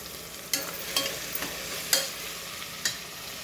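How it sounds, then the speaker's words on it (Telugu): Turmeric being stirred into sambar premix powder in a frying pan: a handful of sharp, scraping spoon strokes against the pan at irregular intervals over a quiet background, close and fairly soft. "పసుపు వేసుకొని బాగా కలుపుకోవాలి"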